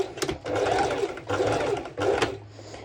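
A sewing machine stitches back and forth on folded fabric for a hoodie top, in three loud, close bursts of rapid whirring separated by brief pauses.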